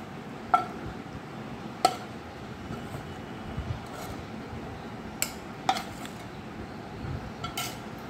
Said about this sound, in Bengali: এবার এই ভেজে রাখা চিংড়ি, রসুন, কাঁচা লঙ্কা এগুলো আমরা এই জারের মধ্যে দিয়ে দেব।